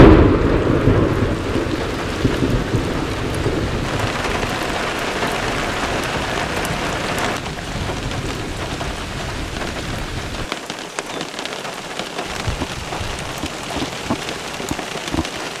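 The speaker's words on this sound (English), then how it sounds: "Autumn has arrived and the first storms appear." Heavy rain pours steadily while deep thunder rumbles through the opening seconds, easing into a constant downpour with no voices.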